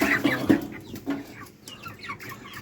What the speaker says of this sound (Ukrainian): Це видно курочка у нас.